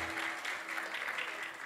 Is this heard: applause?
yes